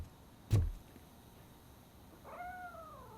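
A cat meows once in RoboCop: Rogue City, a short rising-then-falling cry near the end, preceded by a single soft thump, over quiet room ambience with no talk.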